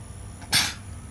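A single short sneeze bursts out indoors, sharp and loud for under half a second, breaking an otherwise quiet room while small orchids are being repotted.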